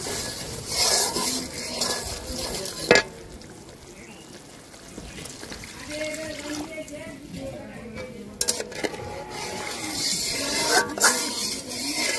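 Water splashes into a pan of fried mustard masala for mustard hilsa in a village kitchen, setting off a steady sizzle with stirring and occasional clinks of utensils; a voice is heard faintly at times.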